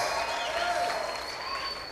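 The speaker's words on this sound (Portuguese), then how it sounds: "Dê mais uma forte salva de palmas para Jesus." Church congregation applauding, a dense, steady wash of clapping from many hands that fades slightly toward the end, with no voices over it.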